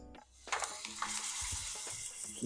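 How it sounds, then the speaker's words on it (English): A fatty pork shoulder, laid fat side down in hot olive oil, sears with a soft, steady sizzle. Faint, close hissing follows a brief clatter at the start. "You can hear that nice little sizzle."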